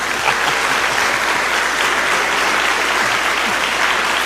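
A church congregation claps steadily and loudly together, a dense even wash of hand claps with no voices standing out.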